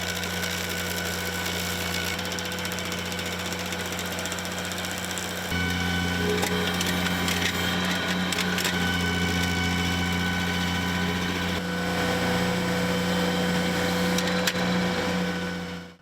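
A tractor fitted with dual wheels drags a box blade to grind out a tree stump, producing a loud, steady engine drone whose strain deepens partway through before cutting off abruptly at the end.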